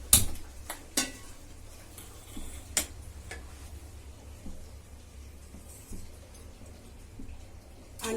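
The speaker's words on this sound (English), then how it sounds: "Now I am lighting the stove." A stove being lit to cook fish curry gives a handful of sharp, close clicks, bunched near the start and then spaced out, over a low steady background hum.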